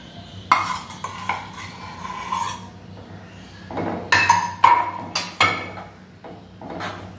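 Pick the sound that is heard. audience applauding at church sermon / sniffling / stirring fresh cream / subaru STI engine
stirring fresh cream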